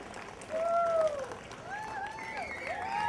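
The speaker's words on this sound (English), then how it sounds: "I only hear 10 of you clapping right now." Scattered audience clapping at a live show, moderately loud and steady for about three seconds, with whistles or voices rising over it.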